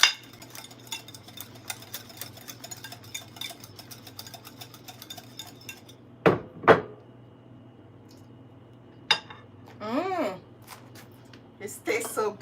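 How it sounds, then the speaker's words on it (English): Caesar salad dressing being whisked in a bowl, a fast, steady ticking clatter of the whisk close up, broken by a few louder knocks and brief bursts of talk. "I'll go ahead and whisk and whisk and whisk and whisk and whisk"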